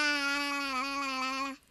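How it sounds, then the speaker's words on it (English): A baby crying, one sustained, steady wailing cry held for over a second before cutting off abruptly, fairly quiet and heard alone. "Babies can't talk, so they make sounds like this."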